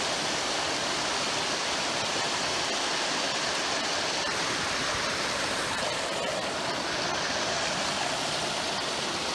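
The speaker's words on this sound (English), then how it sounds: "it makes all the nice ones into these really cool waterfalls" A steady, full rush of a waterfall swollen by heavy rain roars without pause, broad and close, with no voices or other sounds standing out.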